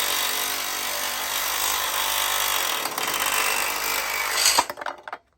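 Bauer brushless reciprocating saw cutting trailer metal, a continuous loud buzzing rasp that wavers briefly midway, then surges and cuts off abruptly near the end.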